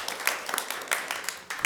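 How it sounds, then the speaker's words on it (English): Meeting attendees at a public library board session applaud briefly, a dense wash of hand claps with a few sharper individual claps standing out, moderately loud and fairly close. "Please, round of applause."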